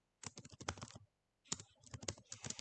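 Rapid clattering keystrokes on a computer keyboard in two quick bursts separated by a short pause, close and crisp in a quiet room.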